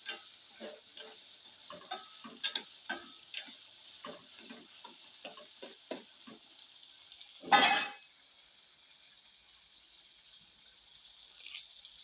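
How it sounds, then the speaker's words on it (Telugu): Kabuli chickpeas fry in oil in a pan, giving a steady soft sizzle with a run of light scraping stirs, one louder scrape partway through and another near the end. "వీటిని ఒక 5 నిమిషాలు అయితే కొంచెం పచ్చివాసన పోయే వరకు ఫ్రై చేసుకోవాలి ఆయిల్లో."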